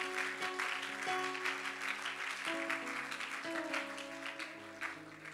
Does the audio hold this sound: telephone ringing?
no